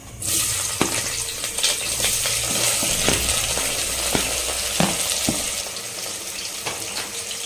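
Chopped onions hit hot oil with garam masala for a mutton biryani, setting off a loud, continuous sizzle close by. Scattered clinks and scrapes of a spoon stirring the pan punctuate it.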